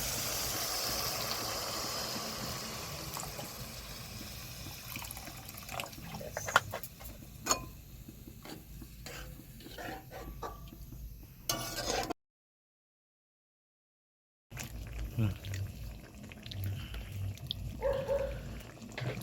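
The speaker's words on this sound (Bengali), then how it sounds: "পরিমাণ মতো জল দিয়ে দিচ্ছি" Water is poured into a pan of mustard pabda fish curry with tomatoes, a steady rushing splash heard up close that drops out briefly before resuming.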